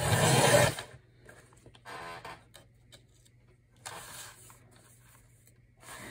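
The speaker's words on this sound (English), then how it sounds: "I am using my Tim Holtz Media Rotary Trimmer" A Tim Holtz media rotary trimmer slices paper, giving a short mechanical rasp at the start, then quieter sliding clicks and a second cutting pass against a faint low hum.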